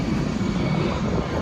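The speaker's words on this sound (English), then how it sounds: "Where is the plane?" An airplane engine roars in a loud, steady, broadband drone that fills the moment without a break, with no talking over it.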